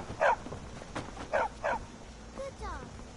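A dog in the video game Skyrim gives a few short barks and yips, moderately near, with a voice speaking between them.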